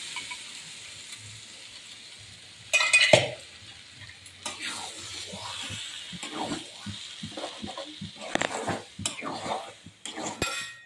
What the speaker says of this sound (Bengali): এবারে সেদ্ধ করে রাখা তরকার ডালটা আমি মধ্যে দিয়ে দেবো।